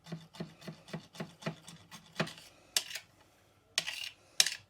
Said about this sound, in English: I'm just going to rock the blade back and forth over that bit of garlic in there